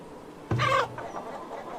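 A single chicken in the game Farthest Frontier gives a short, clear cluck, close and moderately loud over a quiet background hum, then fades into faint ambience.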